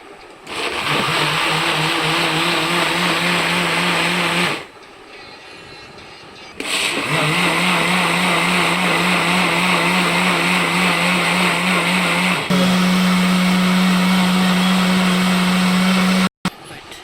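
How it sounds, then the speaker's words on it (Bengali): Loud, steady electric blender whirring as it blends raw mango juice, running in long stretches with a brief pause and a pitch change near the end, then cutting off abruptly. "এখন ব্লেন্ড করতে হবে"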